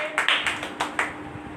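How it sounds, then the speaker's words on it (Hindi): Members of a congregation at a Friday prayer meeting clap in a short, uneven burst of a few distinct claps nearby. A faint steady hum sits underneath. "जोरदार तालियां उसके लिए"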